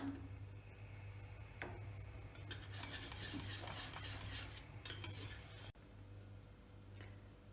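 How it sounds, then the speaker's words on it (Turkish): Rice pudding is stirred in a pot as it boils, giving a continuous close scraping and swishing with small clinks of the spoon against the metal over a steady low hum. "Yine karıştırarak 1-2 dakika bu şekilde kaynatıyorum."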